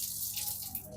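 Water running from the tap of a newly installed Aqua Welt Ayush Plus water purifier in a village home, a steady close hiss of flow filling the whole second with no talk.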